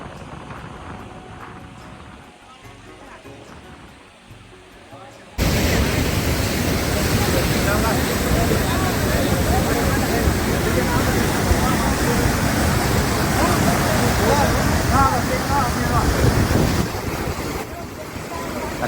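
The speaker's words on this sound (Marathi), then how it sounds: "खाली जाऊन मी तुम्हाला खालचा व्हिडिओ दाखवतो की पाणी किती वेगाने पळते आणि पाण्याला किती जोर आहे" Fast-flowing floodwater rushes loudly in monsoon rain, a dense continuous roar that starts abruptly after a quieter opening stretch and then holds steady, close and powerful.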